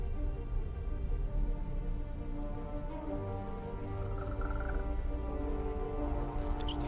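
A frog croaks in repeated low calls within the hidden object game Mystery Trackers: Void, set against a dense, steady ambient bed of game sound, with no speech.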